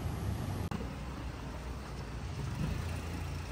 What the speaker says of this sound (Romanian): Și acela e autobuzul.